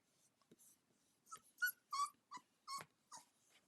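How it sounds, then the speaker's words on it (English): A puppy whines in a series of short, high-pitched whimpers and yips, several close bursts with soft breathing in between, in a quiet indoor studio. "She'll just want to know why her puppy's whining."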